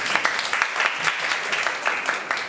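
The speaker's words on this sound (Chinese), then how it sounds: "大家热烈掌声一下啊" An audience at a philosophy lecture breaks into lively applause to welcome a guest speaker, a close, dense clatter of many hands with a faint voice beneath.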